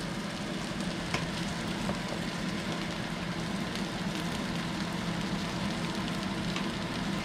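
Pierogies fry in a pan with onions and bacon, giving a steady, dense sizzle and crackle that runs evenly throughout with no talking.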